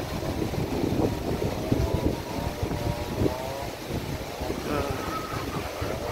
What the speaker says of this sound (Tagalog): malakas yung hangin, malakas yung ulan